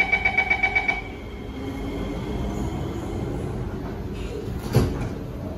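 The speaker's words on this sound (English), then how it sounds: "Doors are closing." SMRT North-South Line Kawasaki & CRRC Sifang C151C train doors closing: a quick run of rhythmic warning beeps, then the doors slide and shut with a single thud over a steady cabin hum.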